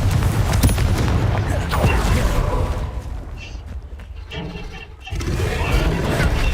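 Confringo spell blasts in Hogwarts Legacy combat: heavy, booming explosions layered over a dense, continuous roar of battle noise, loud throughout with a short dip before the rumble returns.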